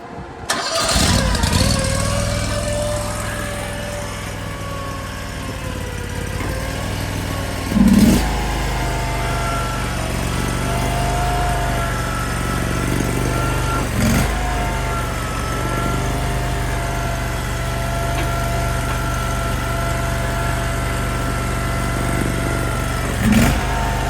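The small engine of an AGT LRT23 mini skid steer cranks and catches, then settles into a steady, loud, close-up idle with a few brief revs and clunks along the way.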